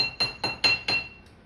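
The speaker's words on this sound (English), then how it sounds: "we take the muddler and we go down there and we're just smashing up the sugar cube until the sugar dissolves in the water and the bitters" A muddler strikes a sugar cube in the bottom of a glass while making an Old Fashioned, giving four sharp ringing clinks in an even rhythm, close and clear, followed by a faint fifth tap.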